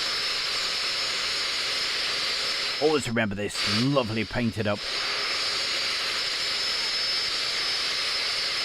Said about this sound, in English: As you can see, another Alpha Jet.